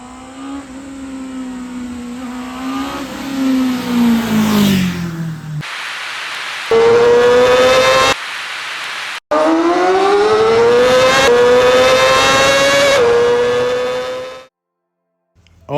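A 2025 Honda CBR650R motorcycle exhaust revs loudly in several rising and falling bursts, separated by abrupt cuts and a short pause, before dropping off near the end.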